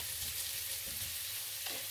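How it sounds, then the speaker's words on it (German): Diced onions softening in a pan for a vegan savoy cabbage pasta with a steady, moderate sizzle running throughout, a few faint stirring scrapes on top, and no voices. "Und darin werde ich jetzt zuallererst meine Zwiebelwürfel andünsten"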